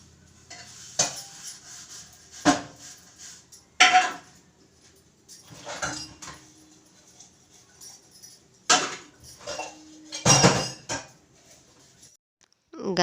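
Pots, pans and dishes being washed by hand in a home kitchen on a cold morning, with scattered clanks and scrapes of metal and crockery coming in separate bursts between quiet gaps.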